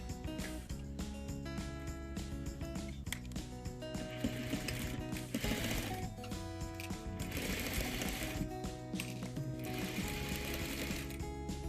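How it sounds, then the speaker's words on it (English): A sewing machine top stitches a fabric face mask in a continuous rapid mechanical clatter with a steady rhythmic needle beat throughout. "I'm gonna top stitch about 1/2 inch, I mean 1/4 inch"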